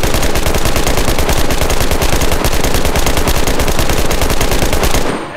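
A Type 1 machine gun in the shooter game Enlisted fires one long, loud, sustained automatic burst at a rapid, even rate, then stops abruptly and leaves a short fading tail.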